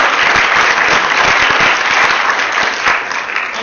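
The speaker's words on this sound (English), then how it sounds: "So really a big round of applause for all the performers" Loud, dense applause from a large crowd at a Bangladesh Night show, steady clapping throughout that eases slightly toward the end.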